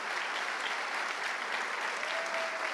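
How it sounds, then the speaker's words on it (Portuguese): Church congregation giving a round of applause, steady dense clapping from a crowd in a worship hall, moderately loud and sustained throughout with no talk over it. "vamos dar uma salva de palmas"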